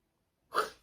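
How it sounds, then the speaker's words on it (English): One quick, close sneeze, a short sharp burst that fades away right after a moment of quiet. "Gotta sneeze."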